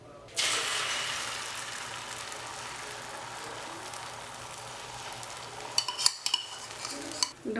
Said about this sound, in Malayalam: അടുത്ത മുട്ടയും കൂടെ പൊരിക്കുക